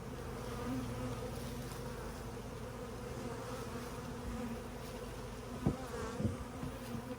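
Honey bees from a transferred swarm trap swarm around a top bar hive, a steady, dense buzzing close by with a few louder passes near the end, with no talk.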